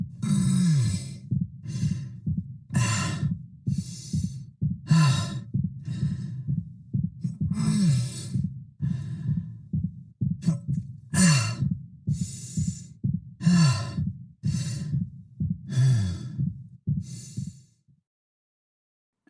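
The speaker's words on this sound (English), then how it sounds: "hearing those injured winces, those fatigued breaths mixed in with his regular breathing actually sounds quite natural" Isaac's pained winces and tired, ragged breathing in the video game Dead Space Remake, a steady series of close, voiced breaths and groans repeating every second or so for most of the span before falling silent.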